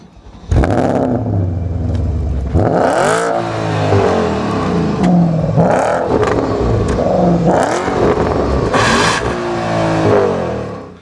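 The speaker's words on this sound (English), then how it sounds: "Listen to this engine start up." A Porsche 4.8-litre V8 engine cranks and fires up, then revs repeatedly with rising and falling roars, loud and close, settling into a rumbling idle between blips.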